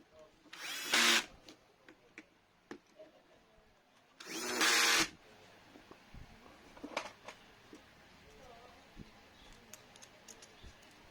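Two short, loud bursts from a Hitachi DH24PH rotary hammer drill about three seconds apart, each lasting under a second, followed by quieter scattered clicks and taps.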